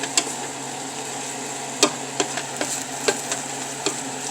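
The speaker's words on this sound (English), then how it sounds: "So you want to kind of saute them there" Mirepoix vegetables for a seafood stock sauté in a pot, a constant close sizzle punctuated by irregular sharp clicks and scrapes of a stirring utensil, with no talking.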